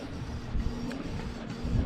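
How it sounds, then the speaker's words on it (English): A newly working home inkjet printer runs a print job, giving a steady mechanical whir and hum with faint shifting rattles, close and continuous throughout. "So I just got the printer working."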